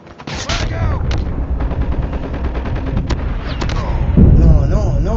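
Rapid video game gunfire crackles close and loud in a clan war match, bursts of automatic shots and heavier thuds overlapping, with a player talking over the shooting.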